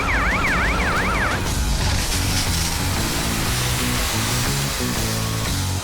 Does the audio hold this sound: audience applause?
no